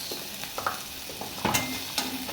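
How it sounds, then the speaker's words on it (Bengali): Ginger garlic paste fries in a pan, a faint steady sizzle with a few soft stirring scrapes and light clinks of a spoon against the pan. "ভালো করে আদা রসুনের পেস্টটা আমি ভেজে নেব।"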